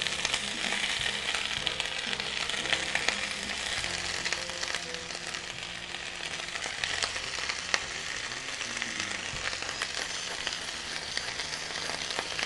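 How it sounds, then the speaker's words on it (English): Mushrooms and spinach sauté in a hot pan, a steady close sizzle and crackle of frying that continues unbroken, with occasional stirring. "and then we're gonna saute these mushrooms"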